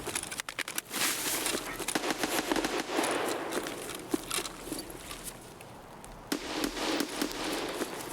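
Rapid gunfire in a raid shooter, a burst of crackling shots fired into a scav's back at close range, followed by scattered clatter and movement noise with no talk.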